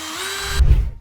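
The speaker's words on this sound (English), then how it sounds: "Lots of holes, lots of drilling." A power drill on slow speed whines at high pitch, then bites through a fiberglass rear wing panel on a BMW M4 F82 with a brief rough grinding burst before stopping.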